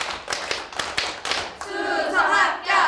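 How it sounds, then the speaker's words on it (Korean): A classroom of students clap their hands in unison, a quick run of sharp, evenly spaced claps, then break into a loud group shout. "박수 10번 치고 우리 수석 합격을 외쳐보겠어요"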